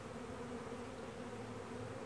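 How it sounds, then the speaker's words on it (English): Honey bees swarm over the top of a hive while a new package is installed, a dense, steady buzz filling the whole stretch, close and continuous with no talk. "Now there's all these bees all over the top here."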